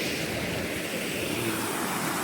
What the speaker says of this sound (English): So I made it to this really cool waterfall.